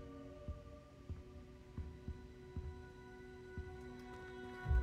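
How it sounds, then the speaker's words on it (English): A heartbeat sound effect from the Hogwarts Legacy video game throbs in slow, regular low thumps, spaced about half a second apart, over a soft eerie hum. "The heartbeat in there."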